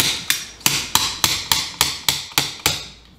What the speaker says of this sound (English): you can catch the head of the bolt with some kind of slide hammer